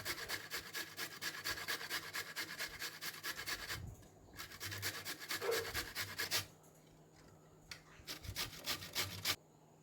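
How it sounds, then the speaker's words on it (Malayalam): A medium carrot rubbed against a grater for a carrot and curd salad, a steady run of fast rasping strokes close up, pausing briefly and resuming, with no talk. "ക്യാരറ്റ് ഗ്രേറ്റ് ചെയ്ത് വെച്ചിട്ടുണ്ട്."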